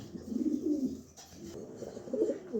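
A male Red Checker pigeon coos close by, a soft low warble rising in two short runs separated by a brief pause, with no talking.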